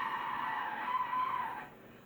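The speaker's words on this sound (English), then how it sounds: "more tire screeching" A car's tires screech in a sustained skid as it is driven far too fast into a tight turn, a loud, steady squeal lasting nearly two seconds before fading off with no talk over it.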